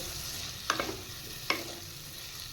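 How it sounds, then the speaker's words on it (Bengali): Taro and potato pieces fry with turmeric and salt in a pan under a soft, steady sizzle, broken by two sharp clinks of a spatula against the pan, close by and without talk. "এবার কচু আলু ভেজে নেব"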